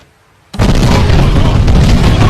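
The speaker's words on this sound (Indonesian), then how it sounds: "terjadilah ledakan dan membuat semua orang tewas" A sudden loud explosion at a minister's house in an Indian police film bursts in after a moment of quiet, a dense roaring blast that holds steady to the end.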